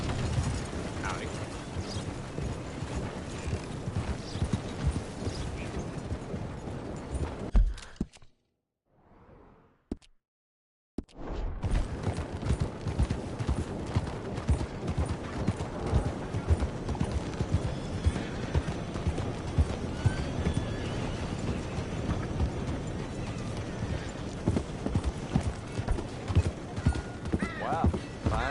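Horse hooves clip-clop steadily in Red Dead Redemption 2, a continuous rhythmic trotting with a brief silent break midway, mixed with game sounds and occasional voices talking.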